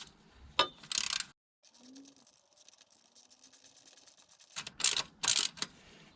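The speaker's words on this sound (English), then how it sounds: "And we can snug it up with the ratchet." A ratchet snugs up an aluminium drain plug on a BMW 1 Series E87 130i manual gearbox, giving a rapid run of close, crisp clicks between sharper metallic knocks.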